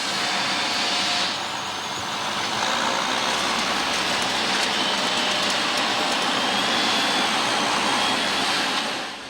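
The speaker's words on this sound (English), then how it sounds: "For these bits, a tractor with a mowing arm is used." A tractor with a mowing arm cuts grass along a field edge, a loud, continuous engine roar with a broad whirring mower drone that holds steady throughout at close range.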